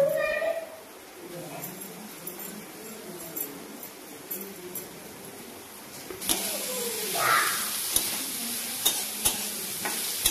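Onion, cabbage and carrot with curry leaves frying in oil in a wok, a soft sizzle beneath a speaking voice, then a louder burst of hissing and stirring scrapes as more goes in.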